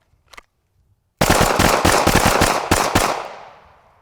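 Rapid gunfire in a shooting drill, a fast string of about a dozen loud close shots after a short quiet pause, ending in a fading echo.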